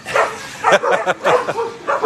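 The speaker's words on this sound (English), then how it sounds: "Very friendly dog. Cream-colored white shepherd" A cream-colored white shepherd dog at an animal shelter gives a quick run of close, loud barks and yips within about two seconds.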